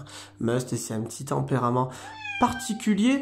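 A pet cat meows and chirps repeatedly up close while a person talks over it, the cries rising and trilling between the words.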